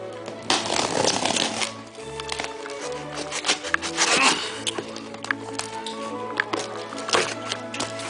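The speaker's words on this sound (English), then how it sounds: "some boxes are very hard to open, especially when they are sealed with a tape" Taped cardboard boxes holding vinyl records and electronic components being torn and pulled open, with crackling rips, rustling and scraping up close, mostly steady handling noise with a few louder tearing bursts and no talking.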